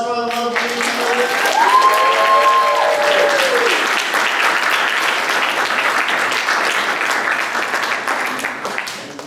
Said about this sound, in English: So if we get a round of applause for all the lovely people.